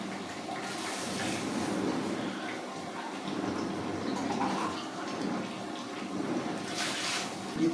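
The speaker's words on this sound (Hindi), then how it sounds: "2 गिलास पानी डालते हैं इसमें।" Two glasses of water pour into a pot of chicken masala karahi, a steady rushing splash running for several seconds, close and moderately loud, with no one talking.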